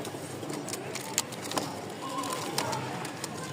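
Giribaz pigeons coo softly amid a busy loft or market background, with a few sharp clicks and knocks scattered through and faint voices in the distance.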